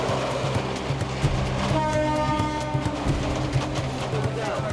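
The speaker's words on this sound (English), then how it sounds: "The train stops at about 15 stations, but that's not including any unexpected stops." A passenger train running in Bangladesh, its wheels clattering in a steady rhythm with a loud horn blast sounding partway through, close and continuous.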